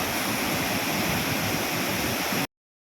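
A Bali waterfall gives a steady, full rush of falling water close by, which cuts off abruptly after about two and a half seconds.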